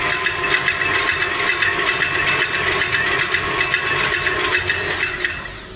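KitchenAid stand mixer whirring steadily with the whisk attachment beating ingredients in the bowl, a continuous close mechanical hum with rapid rhythmic clatter, no talking.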